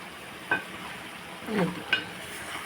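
A spoon scrapes around a pan a few times over a soft, steady sizzle of simmering bottle gourd curry cooked with milk.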